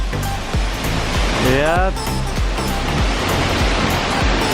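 The roar of a tall waterfall at Havasupai, Arizona, with broad, steady rushing water filling the clip, and a person speaking briefly over it.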